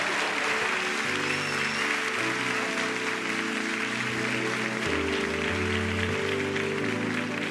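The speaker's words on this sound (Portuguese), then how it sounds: "Vocês podem dar uma salva de palmas?" Steady applause from a church summit audience fills the whole stretch, dense and even, with a tonal music bed playing underneath.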